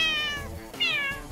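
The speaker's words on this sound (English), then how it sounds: "Cat Paint lets you paint with cats." A cat meow effect from the Cat Paint app plays as two clear, drawn-out meows in quick succession, the second louder and rising, with no talk over them.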